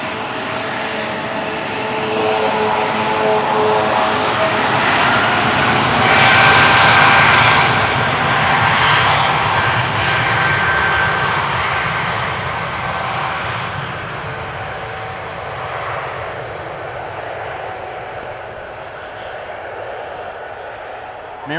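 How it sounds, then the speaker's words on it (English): An Embraer jet lined up on the runway at Amsterdam Schiphol, its engines producing a loud, steady roar that swells and then slowly eases, with faint voices underneath. "to my right, an Embraer has lined up on the runway. You guys probably hear it already."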